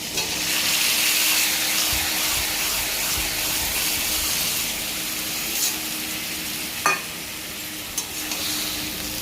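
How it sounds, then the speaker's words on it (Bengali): Marinated singhi fish hits a hot pan and fries with a steady, loud close sizzle, while a utensil stirs and scrapes a few times; the hiss eases slightly toward the end. "এবার যে মাছটা আমি ম্যারিনেট করে রেখেছি এই মাছটাকে দিয়ে দেবো এখানে"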